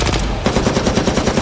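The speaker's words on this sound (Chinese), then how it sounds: "枪声、爆炸声、丧尸的嘶吼声，队员们的怒喝声瞬间充斥了整个实验室" Rapid bursts of automatic gunfire in a zombie-horror audio drama, a dense repeating rattle of shots that jumps louder after the first half-second and keeps a steady fast rhythm throughout.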